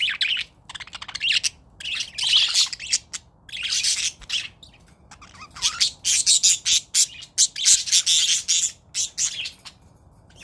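Pet parakeets and lovebirds chirp and squawk in rapid, close bursts, with short pauses between flurries of sharp, high calls.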